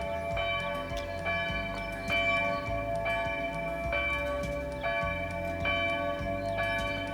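Church bells ring in a steady, repeating pattern in a small town in early spring, their rich overlapping tones sustaining throughout at moderate loudness with no voices.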